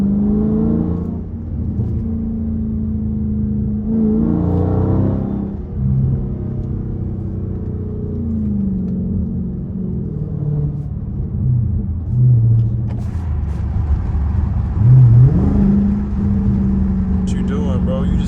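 A deep V8 engine in a Dodge Charger Scat Pack rumbles and revs in waves from inside the car at night in the city, with a voice talking over it partway through.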